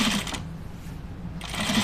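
A sewing machine stitches a denim button-up shirt, its motor humming in a steady run that dips slightly in the middle before picking back up, heard up close without talk.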